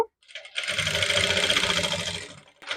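A sewing machine stitching fabric piping, one fast whirring run of needle strokes lasting about two seconds, close and loud, before stopping and briefly starting again.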